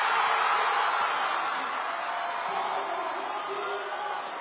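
Basketball crowd at a WNBL women's game, a broad, steady roar of cheering and whoops that fills the arena and slowly eases off, heard from a distance with no clear single voices.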